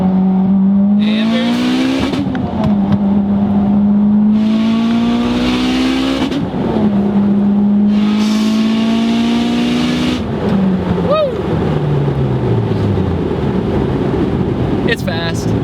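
A Mitsubishi Evo X engine pulls hard and loud from inside the car, rising in pitch through repeated gear changes with brief dips between pulls, while a voice talks over it.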